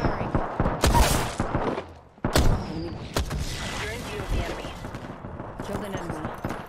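Shots from an unfamiliar gun in the video game Apex Legends: loud, crackling reports and bursts come in quick succession, while someone talks over them throughout.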